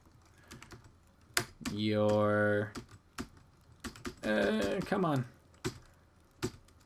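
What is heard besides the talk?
typing on a computer keyboard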